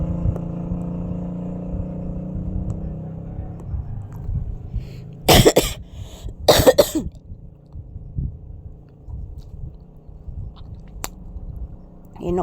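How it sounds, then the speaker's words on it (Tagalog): A man coughs hard twice in quick bursts, loud and close, amid quiet indoor background with faint handling noises. "Inuubo talaga ako mga palangga."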